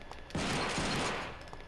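Fireworks gun move in Devil May Cry 2 fires as a dense, loud burst of crackling blasts lasting about a second, then tails off into quieter game noise.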